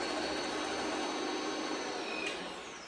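Electric mixer whisking egg whites for a passion fruit pavlova as the speed is raised, a steady whirring motor drone with a close, continuous buzz that eases off slightly at the end.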